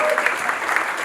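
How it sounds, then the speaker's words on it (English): Wedding guests give David a short burst of applause, a dense patter of many hands close by, lasting only a moment. "Round of applause for David."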